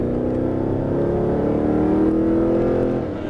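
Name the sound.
Mercedes-Benz SLS AMG accelerating on race track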